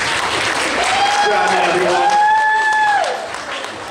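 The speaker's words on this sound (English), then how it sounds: "Give it a round of applause." A convention crowd at a costume contest claps loudly for a costumed entrant. A voice speaks over the applause, which stays strong and then thins toward the end.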